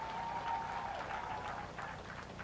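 Crowd applause for the governor at a Nairobi County gathering, a steady, somewhat distant round of clapping lasting a couple of seconds at a fairly low level.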